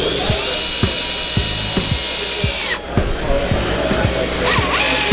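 A power drill drives Torx-head deck screws in a woodturning workshop, with a whining motor and a run of regular clicking ticks. The sound is close, loud and steady, with a brief dip partway through.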